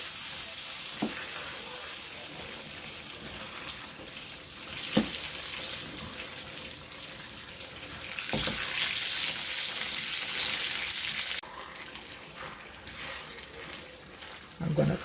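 Shrimp frying in a pan give off a continuous hissing sizzle that swells louder midway, with a few utensil clicks and scrapes and a brief quieter dip near the end.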